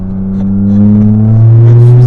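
A Toyota Yaris GR 2024 with a turbocharged 1.6-litre three-cylinder and all-wheel drive accelerates hard, its close engine note rising steadily in pitch and loudness over two seconds with a deep, strong drone.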